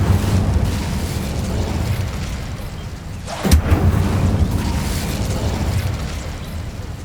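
An Incendio fire spell cast in Hogwarts Legacy makes one sharp whooshing burst midway, over a steady low ambient rumble, loud and close.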